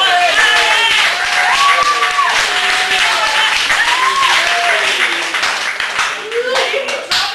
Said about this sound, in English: I haven't had a proper amount of applause for Jeff Helgeson